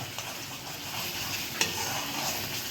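Vegetable curry seasoned with Punjabi masala is stirred in a pan with oil, giving a steady low sizzle and soft scraping throughout, with one sharper knock near the middle.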